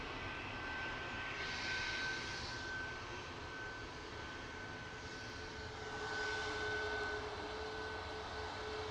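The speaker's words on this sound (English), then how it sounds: "One of the air tankers taxiing out now, the far row." An AirTanker jet taxiing at Manchester Airport, its engines giving a steady, loud whine and roar that swells slightly twice as it rolls along the far row, with no voices over it.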